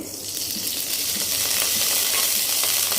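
Oil heating in a kadai for dhaba-style dum aloo, with cumin soon to follow, gives a steady close sizzle and hiss that grows slightly louder and stays continuous, with no voices.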